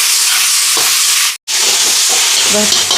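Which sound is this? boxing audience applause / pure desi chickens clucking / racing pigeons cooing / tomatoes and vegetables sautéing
tomatoes and vegetables sautéing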